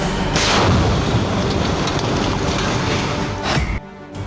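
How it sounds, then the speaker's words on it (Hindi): A demolition explosion levels a building in a heavy, sustained rumble of blast and collapsing rubble. It stays loud for several seconds, gives a final burst, then cuts off abruptly. "एक ब्लास्ट और बिल्डिंग का नामो निशान मिट गया।"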